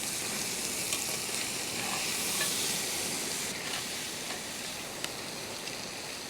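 Ingredients for mutton bone marrow rice sizzle and fry steadily in a pan in a village kitchen, a constant loud hiss with faint stirring scrapes and no talk.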